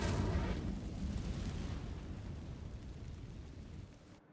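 An Incendio fire spell in Hogwarts Legacy, a loud fiery burst that erupts at once, then a roaring rumble that fades slowly before cutting off.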